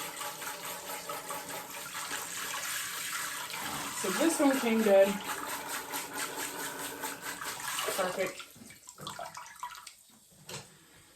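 Hissing spray of water from a handheld sprayer rinsing a cloth diaper, steady for several seconds before cutting off, with a voice speaking briefly over it.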